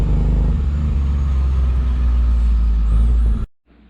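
A 1985 Pontiac Fiero idles loud and close with a steady low rumble and engine drone, then the engine cuts off abruptly, leaving near silence.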